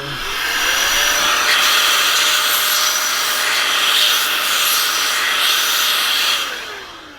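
A small handheld electric blower clears debris out of a string trimmer, giving a steady, loud whooshing roar that holds for about six seconds before cutting off.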